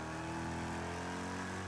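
A racing car engine in Project Cars 2 hums steadily at close range, with a sustained mechanical tone and no clear gear change over the short stretch.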